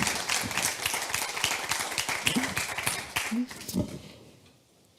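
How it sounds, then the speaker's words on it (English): Dense applause from an audience, steady for a few seconds, then thinning out and fading toward quiet at the end. "You may applaud, of course."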